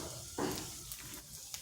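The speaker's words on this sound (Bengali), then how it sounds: "ফোড়নে দিচ্ছি গোটা জিরা" Whole cumin seeds hit hot oil in a kadai and give off a steady, faint sizzle and hiss, with a soft burst as they go in.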